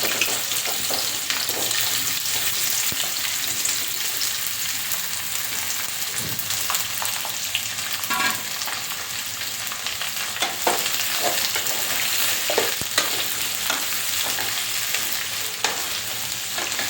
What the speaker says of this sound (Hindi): इसको आप हल्का फ्राई कीजिए, बहुत ज़्यादा फ्राई करने की आवश्यकता नहीं है।